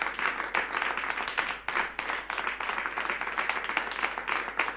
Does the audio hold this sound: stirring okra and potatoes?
no